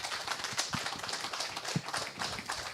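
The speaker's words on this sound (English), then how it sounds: "Join me in a round of applause." Faint, steady applause from the audience at a panel discussion on water resilience, a soft dense patter of many hands running evenly throughout without a clear start or finish.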